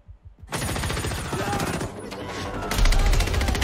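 Rapid automatic gunfire in the video game Battlefield 2042, a dense sustained burst of loud close shots that starts after a brief lead-in and continues to the end, with a heavier thump near the close.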